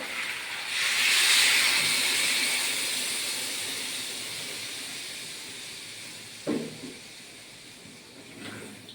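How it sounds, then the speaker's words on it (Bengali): Water poured into a hot pan of cooking fish and potato curry sets off a loud, sizzling hiss that surges at once and slowly fades. A couple of soft clunks follow near the end. "এই যে জল ঢেলে দেবো।"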